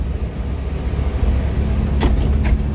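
Interior of a 1997 Nissan Patrol on the move, a steady low road and engine rumble filling the cabin, with a couple of brief hissing bursts near the end.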